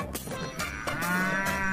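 A cow moos close by, one drawn-out, loud call with no other sounds over it.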